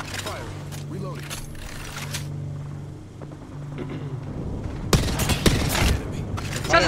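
Bursts of automatic gunfire in the battle-royale game Apex Legends, with a quieter stretch of mechanical clatter before loud, dense volleys near the end, layered over game ambience and sporadic voices.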